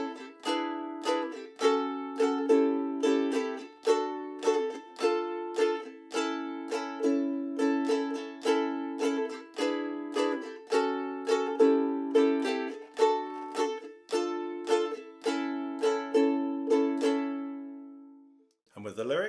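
Ukulele strumming the chords of a song's verse, a steady rhythmic pattern of bright plucked chords, close and clear, with no singing, ending on a final strum.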